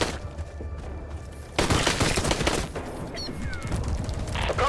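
Gunfire in the video game Rockhounds as eggs in a nest are shot, a dense, loud burst of rapid automatic shots with crackling impacts, starting abruptly after a quieter opening and continuing in bursts.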